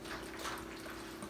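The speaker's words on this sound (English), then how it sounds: "We're just going to use some beef broth, and we're going to pour this in." Beef broth being poured from a bottle into a pan, a quiet brief steady trickle heard close by.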